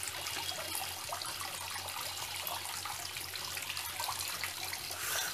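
Tap water runs steadily into a sink, a continuous broadband splashing hiss that stays fairly even and close throughout, with no voices.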